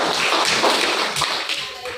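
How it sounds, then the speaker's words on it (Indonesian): Classroom applause from students: a brief burst of many hands clapping close and loud, thinning toward the end with faint voices mixed in. "Tepuk tangan"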